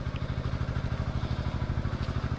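A small engine running a water pump chugs steadily up close, with a fast, even pulsing throb that holds at a strong working pace throughout.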